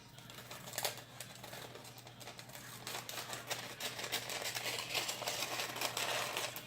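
Scissors snip through parchment paper to trim a liner for a cake pan, giving quiet, close crisp cuts and light crinkling over a faint steady hum, a few sharp snips near the start and softer rustling after.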